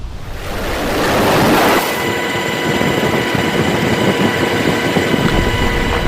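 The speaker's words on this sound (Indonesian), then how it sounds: "Rekaman Pusat Komando Amerika Serikat menunjukkan sebuah helikopter militer terbang di atas kapal." A military helicopter flying over a tanker ship in the Gulf of Oman gives a loud, continuous roar of rotor and engine noise mixed with wind and sea rush, steady throughout with no talk.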